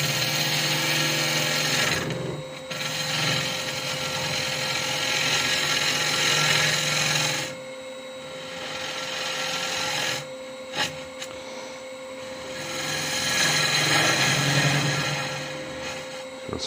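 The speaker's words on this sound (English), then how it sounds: "I'm drilling it to hollow." A drill grinds into a turned teak vase to hollow it in long, loud bursts separated by brief pauses, close up and without speech.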